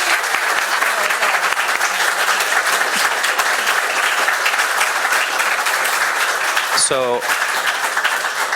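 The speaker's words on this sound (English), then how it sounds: "let's give them a round of applause." Steady audience applause filling a hall after a panel on women in prison, continuous and even throughout, with a brief spoken word near the end.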